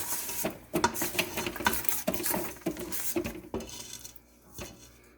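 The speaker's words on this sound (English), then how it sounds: "We're gonna scrape down, get them eggs, that mix in with that butter and sugar, baby." Utensil scraping and clinking around a mixing bowl of eggs, butter and sugar, with repeated close taps and scrapes in an uneven rhythm and no talking.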